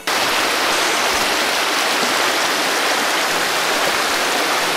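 The River Devon flows below a ruined viaduct in a wooded valley, giving a constant broadband rushing of water that is steady and fairly close, with no voices.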